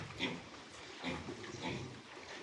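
Pietrain x Maxter feeder piglets grunt and squeal in short bursts, a few quiet close calls repeating over a soft rustling background.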